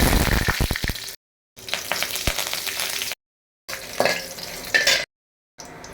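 Mustard seeds crackle and pop in sizzling hot oil while tempering rasam, sharp bursts of spattering in short loud stretches separated by silent gaps.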